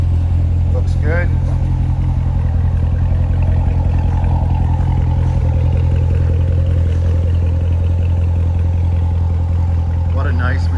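A 2019 Chevrolet Corvette Stingray 1LT coupe exhaust rumbles with a deep, steady, loud drone close by, holding an even idle-like tone for the whole stretch.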